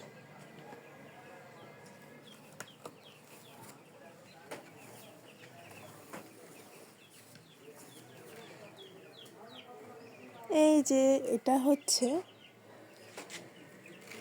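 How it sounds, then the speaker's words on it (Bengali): Broiler chickens on a small farm squawk in a loud, brief burst near the end amid a faint rustling barnyard background, with someone talking over it. "ব্রয়লার মুরগির খামার"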